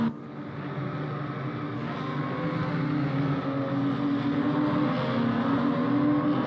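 A BMW 235i race car at Brands Hatch runs flat out down a straight in another car's slipstream, a steady loud engine drone with rising harmonic pitch and no breaks throughout.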